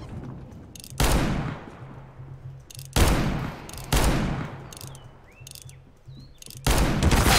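Loud gunshots crack out one at a time in a video game, four or five sharp blasts spaced a second or two apart, each trailing off into a long echoing decay, with faint insect-like chirps in between.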